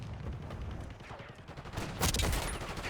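Gunfire in the Black Ops 6 video game, repeated rapid shots and bursts rattling throughout, with a heavier louder volley erupting partway through.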